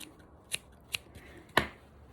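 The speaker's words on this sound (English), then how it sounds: "Make sure you've got sharp scissors too." Sharp scissors snipping a toy's fur, three crisp close snips spaced roughly half a second apart, the last one loudest, over a quiet room.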